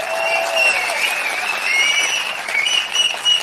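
A crowd at a political meeting in Karur applauds steadily, with shrill whistles riding over the dense clapping throughout.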